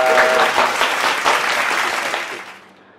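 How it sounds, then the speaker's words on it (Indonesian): Applause from a small group on an Indonesian talk show. The clapping is brisk and fairly loud, then fades over three seconds. "Kita kasih aplaus lah."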